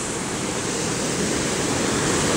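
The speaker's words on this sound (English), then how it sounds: "look at the waterfall" A waterfall at the Old Mill District in Pigeon Forge, Tennessee, where a lake drops over the edge, gives a loud, dense, unbroken rushing roar close by.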